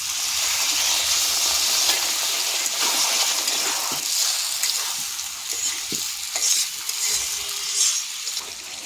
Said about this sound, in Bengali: কুমড়ো আর আলু এবার ভালো করে কষিয়ে নেব কুমড়ো আলুর সঙ্গে